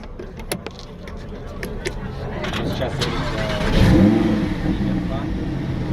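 A straight-piped BMW M4 F82 cranks and fires up, its exhaust swelling into a loud rev around the middle before settling to a rough idle, with people talking close by throughout.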